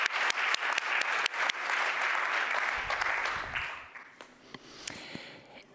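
A scientific conference audience in Berlin breaks into loud, sustained applause with a few sharp individual claps at the start. It swells into a dense wash, then thins out to scattered claps at the end.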